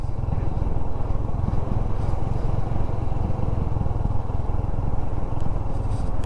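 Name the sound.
motorcycle riding on sandy road in Ladakh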